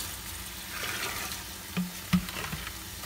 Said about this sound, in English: I'm gonna pour some vinegar in here.